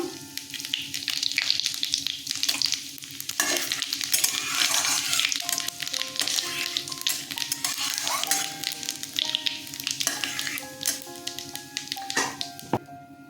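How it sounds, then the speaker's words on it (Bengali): Bay leaf, dried chili and cumin seeds sizzle loudly in hot oil in a pan, a dense, continuous crackling hiss with occasional stirring scrapes and clinks, no talking. "তেজপাতা শুকনো লঙ্কা ফোড়নে দিয়ে দিলাম জিরে দিলাম"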